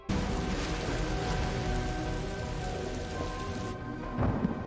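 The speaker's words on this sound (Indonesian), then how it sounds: "Lalu dalam perjalanan terjadilah badai hebat" A heavy thunderstorm with dense, loud rain and low rumbling thunder rolls on steadily, then the downpour abruptly drops away near the end as a deeper rumble swells.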